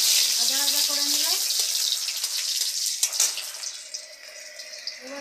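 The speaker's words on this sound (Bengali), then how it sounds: "এই মশলাটা একটু ভাজা ভাজা করে নিলে" Whole garam masala, bay leaves and black cumin sizzling in hot oil, a steady hissing fry throughout, with someone speaking over it at the start.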